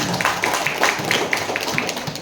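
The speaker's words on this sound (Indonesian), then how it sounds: "Tepuk tangan dulu, tepuk tangan." Clapping from a group of junior high school students at a school outreach event, a lively, steady patter of many hands heard indoors at moderate distance, with faint voices mixed in.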